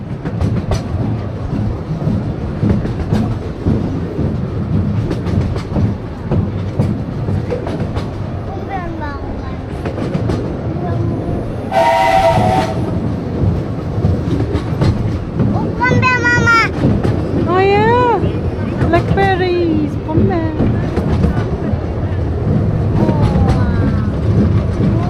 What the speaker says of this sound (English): The locomotive that drives us here today